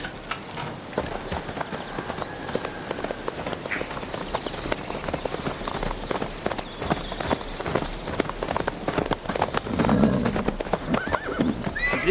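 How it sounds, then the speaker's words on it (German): Horse hooves clip-clopping at a gallop with repeated neighs and whinnies, loud and close in a western film scene, with steady hoofbeats running throughout and a louder whinny toward the end. "Ist nur ein Pferd da, Sheriff."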